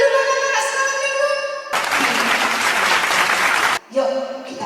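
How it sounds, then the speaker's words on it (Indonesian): A congregation at a Sunday school worship service claps loudly and steadily for the children, a dense burst of applause between stretches of music. "Tepuk tangannya dulu anak-anak sekolah minggu"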